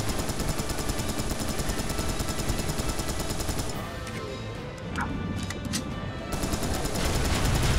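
Continuous automatic rifle fire in the shooter game Serious Sam 3, loud and dense, with a short dip near the middle before the rapid shots resume at full intensity.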